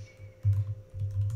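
Typing on a computer keyboard while entering Python Pygame code for a Tetris game, two short bursts of quick keystrokes close to the microphone, with no talking.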